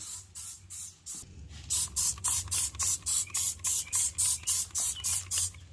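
A hand-pumped sprayer washing the back of dump truck decks in a yard, giving regular, evenly spaced bursts of spray hiss, about two per second, with a brief pause before the rhythm picks up louder.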